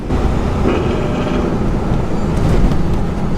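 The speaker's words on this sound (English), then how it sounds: "I heard him downshift" A car engine is heard downshifting on a drive, a loud, steady mechanical roar with road noise that shifts in pitch partway through, with no talking.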